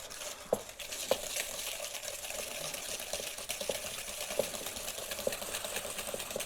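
Egg yolks and sugar beaten by hand with a whisk in a bowl for crème brûlée, a steady soft scraping churn with periodic sharp clinks of the whisk against the bowl, close and alone without talk.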